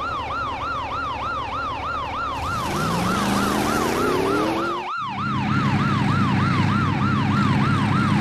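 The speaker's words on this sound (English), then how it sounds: "police car." A cartoon police car siren wails in a steady looping up-and-down pattern, loud and continuous, with a rising engine-like sweep underneath and a sharp thump midway before the siren carries on.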